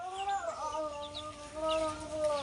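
A stag rooster clucks close by in drawn-out, wavering calls that slide and repeat, with faint chicken calls behind.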